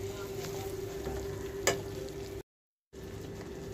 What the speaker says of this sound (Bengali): এবার এই মশলাটা ভালো করে কষে নেব।